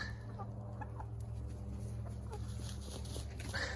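Chickens on a small egg farm of about 70 hens clucking softly in the background over a steady low hum, with scattered short clucks from several birds at a distance.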